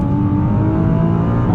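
A Nissan GT-R 50th Anniversary Edition accelerates hard in second gear, its engine note loud, close and continuous through the short burst with no talking.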